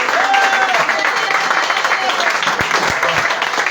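A church congregation applauds and cheers in acclamation, a steady, dense wash of clapping and voices filling the whole stretch, with a few louder thumps near the end.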